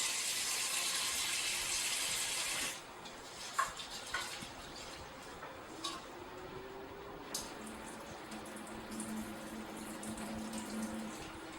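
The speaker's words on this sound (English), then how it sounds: "Then we're going to rinse the rice." Rice is rinsed under a running kitchen tap, with a steady hiss of flowing water that drops to a softer trickle broken by small splashes and swishes, with no talk.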